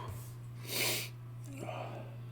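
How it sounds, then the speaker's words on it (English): A close, brief inhale through the nose over a poured glass of 25-month barrel-aged tequila, one soft breathy sniff rising and fading, followed by a faint second intake, alone over a steady low electrical hum. "Let's give her a sniff."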